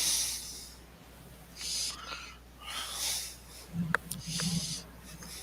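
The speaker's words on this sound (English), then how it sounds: "You're breathing heavy" Heavy breathing close to a microphone, a few slow, hissy breaths with soft voiced sounds near the end.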